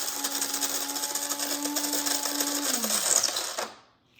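A Cuisinart Supreme Grind burr grinder runs continuously on its coarsest setting, grinding coffee beans with a steady whirring motor hum and gritty rattle, close and fairly loud, then winds down and stops near the end.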